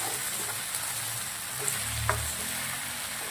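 Okra chili frying in a pan for an Indo-Chinese bhindi chili, a steady loud sizzle with a few soft scrapes and clinks of a spoon stirring, close and without talk.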